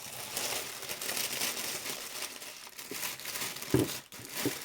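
Soft crinkling and rustling of gift wrapping paper close by as a present is carefully unwrapped, steady through most of the clip, with a couple of sharper tearing crackles near the end.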